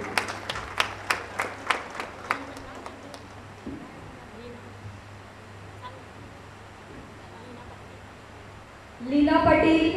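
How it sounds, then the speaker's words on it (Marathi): An audience at a large women's gathering in Mira-Bhayandar breaks into loud, dense applause near the end, after a run of light rhythmic taps and a quiet stretch of room hum. "तर सर्वांसाठी टाळ्या होऊन जाऊ दे."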